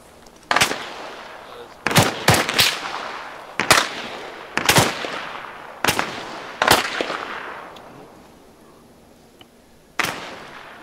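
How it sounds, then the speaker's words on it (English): Gunfire in the military game Task Force Comanche, with bullets landing close by: about nine sharp, loud reports spread irregularly across the clip, some in quick pairs, each trailing into a short decay. "there's like bullets landing all around me"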